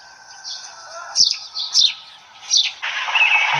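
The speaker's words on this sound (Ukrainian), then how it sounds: "Горобці." A few bright, sharp sparrow chirps in short bursts, close by, ending in a busier flurry of twittering.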